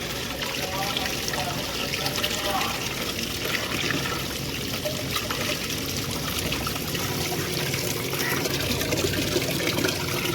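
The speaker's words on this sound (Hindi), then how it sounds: "इसको पानी में अच्छे से मिक्स कर देंगे" Steady trickling and sloshing of water as jaggery pieces are mixed in by hand, continuous and close, with small liquid splashes throughout and no voices.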